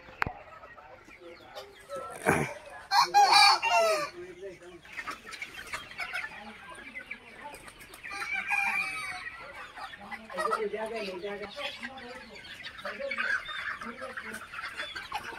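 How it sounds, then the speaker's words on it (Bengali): Native desi chickens cluck and call on a poultry farm, with a loud burst of squawking near the start and occasional rooster crowing amid scattered flock noise, a voice talking briefly in the background. "অরিজিনাল পিওর দেশি মুরগি"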